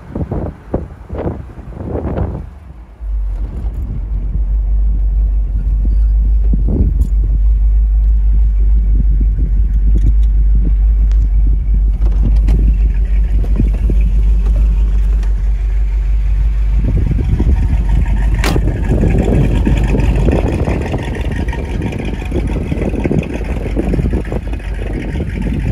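A classic collector car registered in France, heard from inside while driving: a loud, steady low engine drone with rumble that holds throughout, plus a few knocks and rattles at the start.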